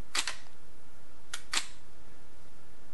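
Shutter of a Nikon D3x DSLR in live view with exposure delay mode, two sharp mechanical clicks near the start, then about a second later another pair of clicks, crisp and close against a quiet background.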